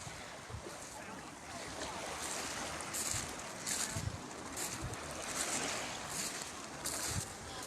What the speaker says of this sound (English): Really nice to have the water, nice to have the sound of the water.